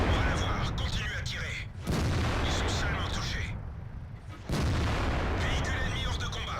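AMX 50B tank cannon firing in the World of Tanks video game: two heavy, booming shots with long rumbling tails fill the clip loudly, with game sounds layered over them.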